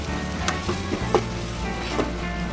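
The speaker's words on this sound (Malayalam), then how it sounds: "തക്കാളി നല്ല വാടാൻ കൊടുക്കുന്നുണ്ട്." Tomatoes sautéing in a pan give a steady, soft sizzle, with a few light scrapes and taps of a spoon scattered through; close and continuous, no talk.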